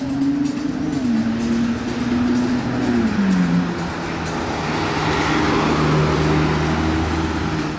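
A Porsche arrives on a Monaco street with a close, steady engine drone whose pitch dips and shifts as it rolls in, mixed with surrounding traffic noise.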